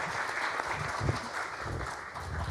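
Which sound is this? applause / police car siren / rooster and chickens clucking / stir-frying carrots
applause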